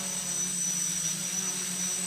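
A quadcopter drone on the Reptile V550 quad frame flies outdoors, giving a steady high-pitched whine of spinning propellers with an even motor drone underneath.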